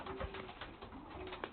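A young racing pigeon coos softly at its loft after returning from a race, a brief low murmuring call under a steady background hum.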